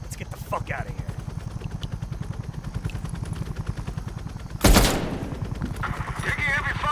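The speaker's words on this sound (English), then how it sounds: "Taking heavy fire, waving off." Heavy automatic gunfire rattles in rapid bursts through a Call of Duty Cold War firefight, with a loud blast-like burst near the middle and radio-style voices over the shooting.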